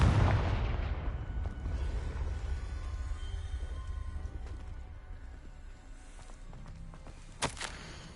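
Confringo fire spell blast in Hogwarts Legacy, a loud booming burst at the start that decays into a long rumbling tail, followed by quieter ambient game sounds and a brief sharp crackle near the end.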